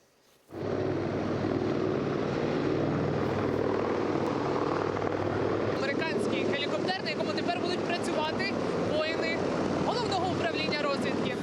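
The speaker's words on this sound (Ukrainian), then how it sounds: "Медичний гелікоптер Сікорський С-76 Альфа призначений для гуманітарних місій та медичної евакуації" A Sikorsky S-76A medical evacuation helicopter gives a steady rotor and engine drone that starts suddenly and holds at an even level, with people talking over it in the second half.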